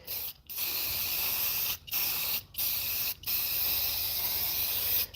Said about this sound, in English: All right, just gonna add some clear coat.